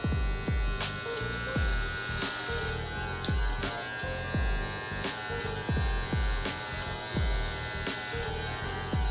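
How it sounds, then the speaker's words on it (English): An electric trimmer buzzing steadily against a beard, a close, constant motorized whine with a mains-like hum and rhythmic low thumps as it passes over the face, no talk. "Let me trim my other side."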